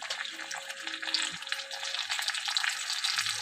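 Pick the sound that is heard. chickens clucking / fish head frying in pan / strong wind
fish head frying in pan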